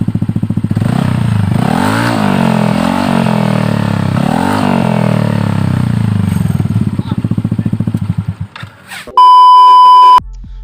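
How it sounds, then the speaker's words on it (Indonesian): A Yamaha NMAX scooter with an aftermarket exhaust idles loudly with a deep, throaty note, revved in two short bursts, then dies away before a sharp electronic beep ends it. "Jadi untuk suara knalpotnya kayak gini teman-teman"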